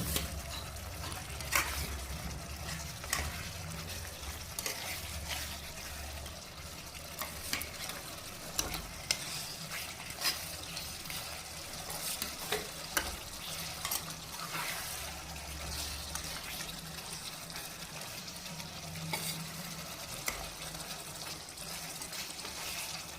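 Fish pieces simmering and sizzling in a thick gravy, a steady bubbling hiss with frequent scraping and stirring clinks from a utensil against the pan throughout; no one speaks.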